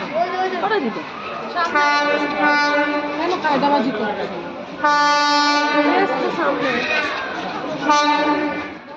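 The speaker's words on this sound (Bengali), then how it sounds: "শান্তিপুরকে বিদায় জানিয়ে আমাদের ট্রেন এবার এগিয়ে চলেছে আমাদের নৈহাটির দিকে" A passenger train rumbles along steadily, leaving Santipur, with repeated loud horn blasts sounding close by, and voices talking underneath the noise.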